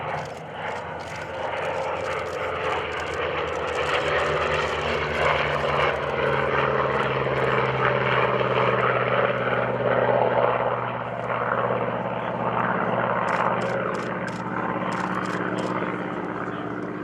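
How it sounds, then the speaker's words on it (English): An F4U Corsair propeller fighter flies past at an airshow, its loud rough piston-engine drone swelling and holding steady before easing slightly, with a faint voice briefly over the roar. "Dirtied up, here comes the F4U Corsair."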